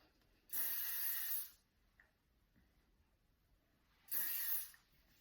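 Two bursts of hairspray on hair during a blow-dry, each about a second long, separated by a quiet pause; a close, loud, airy hiss.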